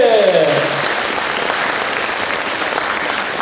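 An audience at an ensemble performance bursts into loud, sustained applause, with a short sung or voiced tone fading out at the very start.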